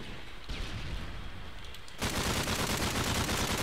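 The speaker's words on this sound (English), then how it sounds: "I hardly ever use light machine guns, so I really have like no clue what gun it is." Light machine gun fire in a zombie shooter video game, a sustained loud burst of rapid automatic shots that starts abruptly and continues steadily after a quieter stretch of ambient game noise.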